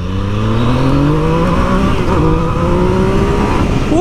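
A Yamaha MT-09 motorcycle engine revs hard and climbs steadily in pitch as it accelerates at full power with traction control off, loud and close throughout.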